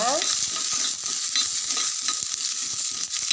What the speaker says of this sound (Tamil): ஒரு ஐம்பது கிராம் சின்ன வெங்காயம் ஒரு பத்து பல்லு பூண்டு ஒரு நாலு வரமிளகாய் போட்டு நல்லா ஃப்ரை பண்ணிக்கோங்க